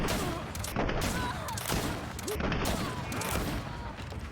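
Gunfire in the Greedfall video game, several sharp shots and crackling bursts amid busy combat noise, fairly loud throughout.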